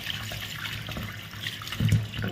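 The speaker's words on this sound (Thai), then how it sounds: "ก็มาล้างผักชีนะคะ" Tap water runs into a kitchen sink while fresh coriander is rinsed under it, a steady close splashing stream with a brief louder gush near the end and no talking.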